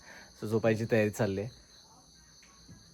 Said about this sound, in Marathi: रातकिड्यांचा मात्र आवाज येतो आहे.